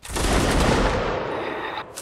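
A massed musket volley from a Napoleonic Wars battle game erupts as one dense, loud crackling burst that rolls on and fades over about two seconds.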